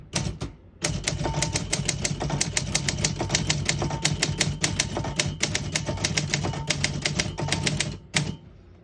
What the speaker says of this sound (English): I'll type a sentence on the next line of red.